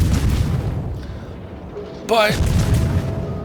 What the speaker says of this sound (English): the Minotaur started shooting